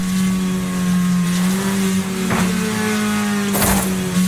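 A rally car engine in Wreckfest holds steady in 4th gear on a forest stage, a loud, continuous drone with a strong steady pitch, joined by a brief bump around the midpoint and a sharper crunch near the end.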